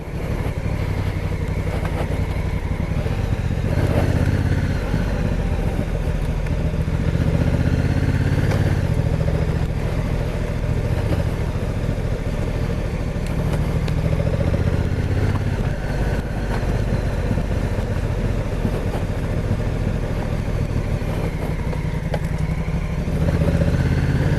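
A Honda CRF1000 Africa Twin with DCT rides off-road in adventure terrain, its twin-cylinder engine rumbling steadily with rises and dips in throttle over continuous wind buffeting and clattering from the rough ground.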